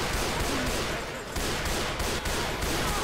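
Rapid gunfire from exploding ammunition in the video game Left 4 Dead 2, a dense, continuous burst of overlapping shots and blasts that stays loud throughout with no pauses.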